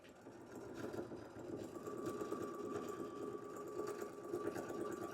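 A sewing machine runs steadily at a long stitch length along a tape line on a bag, giving a continuous close mechanical whir with a rapid needle rhythm. Its level stays fairly even and it plays alone without speech.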